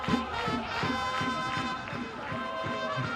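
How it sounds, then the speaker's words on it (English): Dense crowd noise at a football cup final, a steady roar of voices and cheering that stays loud and continuous throughout, with rhythmic stomping or clapping pulses underneath. "I hope they can hear this crowd on the camera as well."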